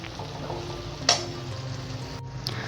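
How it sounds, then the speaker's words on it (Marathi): Masala spices frying and being stirred in hot oil for a dhaba-style whole masoor dal, a steady close sizzle with a brief louder scrape of the spoon partway through. "हा मसाला चांगला तेल सुटेपर्यंत परतून घ्यायचा."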